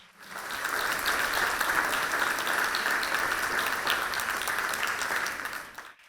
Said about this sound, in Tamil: தயவு செஞ்சு எல்லாரும் சேர்ந்து கைத்தட்டலாம் இன்னொரு முறை.